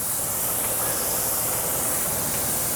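Marinated boneless chicken thighs sizzle steadily in a hot pan, a loud, even crackling hiss close by that holds without pause.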